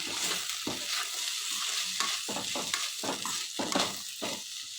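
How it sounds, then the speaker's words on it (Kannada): Masala seasoning being stirred into vegetable pasta in a pan, with steady sizzling and repeated scraping strokes of a spoon against the pan, close and continuous with no talking. "ಅರ್ಧ ಟೇಬಲ್ ಸ್ಪೂನಷ್ಟು ಮ್ಯಾಗಿ ಮಸಾಲ ಮಿಕ್ಸ್ ಮಾಡೋಣ"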